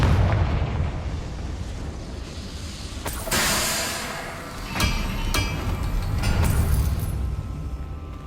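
Confringo spell explosion in the Hogwarts Legacy video game, a loud booming blast with a crackling burst, followed by a few sharper impacts and rumbling debris over steady game ambience.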